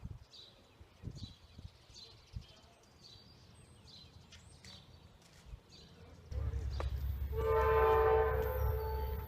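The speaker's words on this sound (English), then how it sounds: "The majestic Amtrak P030 eastbound Capital Limited heading to Washington, D.C." An eastbound Amtrak Capital Limited passenger train approaches, its horn blaring loud and sustained in the final seconds over a rising rumble, after a quieter stretch of birdsong and outdoor ambience.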